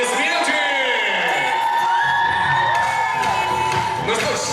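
Crowd at the Miss and Mister BSU 2019 university pageant whoops and cheers loudly over music, sustained shouting and yelling filling the hall for several seconds without a break.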